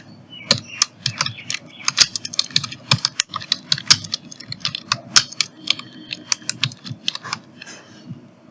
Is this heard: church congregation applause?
no